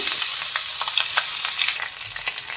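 Ground greens tipped into a pan of frying garlic give a steady, loud sizzle, with brief stirring clatters throughout that ease off slightly near the end; no voices.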